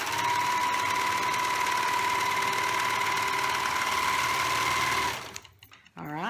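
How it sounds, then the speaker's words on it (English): A serger stitches a fabric seam for a Minnie Mouse pillowcase dress, a steady loud whirring hum for about five seconds, then stopping, with a voice after it goes quiet. "I'm going to serge it closed"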